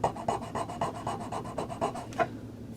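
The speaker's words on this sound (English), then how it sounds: "I'm going to put the tulip socket on my thumb and just remove a little material" A metal file rasps back and forth across a tulip-style Christmas light socket, removing material in a steady run of about a dozen short, close strokes before stopping.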